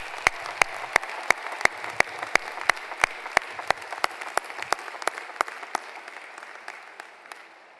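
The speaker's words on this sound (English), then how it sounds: "Will everyone please join me in a round of applause for this dedicated team." Applause fills the hall at a university commencement ceremony, with a steady wash of clapping under a series of sharp, evenly spaced loud claps that fade near the end.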